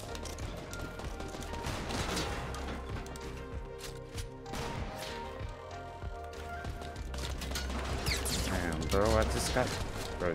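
Gunfire in the Fortnite battle royale game, shots and bursts scattered through a dense, loud mix of game sounds and music, with a player talking over much of it.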